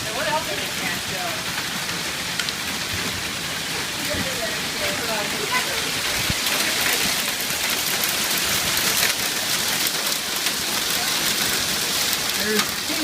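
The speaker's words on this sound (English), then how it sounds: "There's hail rolling off the roof." Hail pours steadily onto a roof in a flash hailstorm in Rockford, a dense, even hiss of countless small impacts resembling heavy rain, continuous throughout with no pauses.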